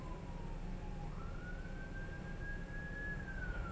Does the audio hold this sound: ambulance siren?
yes